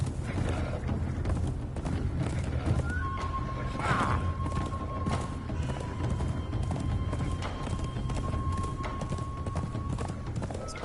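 A horse in the game Conan Exiles trots with a steady clip-clop of hooves, letting out a whinny partway through before hoofbeats continue, close and loud, with faint speech.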